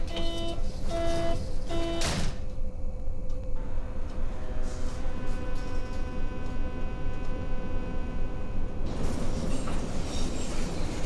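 U-Bahn subway train in the bus and rail simulator OMSI 2, running on a Berlin line: a steady rumbling ride with whining motor tones, brief tonal signals early on and broadband rail noise swelling toward the end, with no talk.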